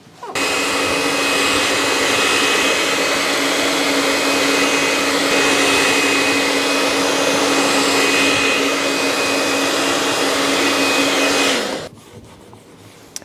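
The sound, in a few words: hair dryer heating plastic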